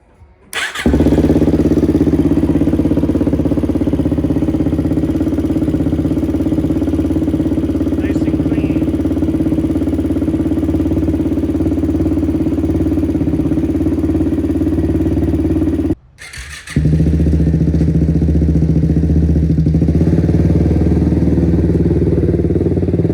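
A Suzuki LTZ400 ATV, freshly repaired with new valve seals and a head gasket and its carburetor refitted, starts and settles into a loud, steady idle, cutting out briefly and catching again near the end.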